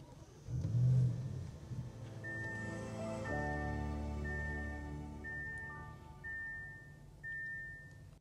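A 2026 Audi RS7 Performance engine cranks and fires, a short loud revving burst settling into a steady idle rumble with faint electronic chimes, heard close from inside the car and alone without talk.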